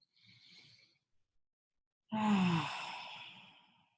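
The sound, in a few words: deep breath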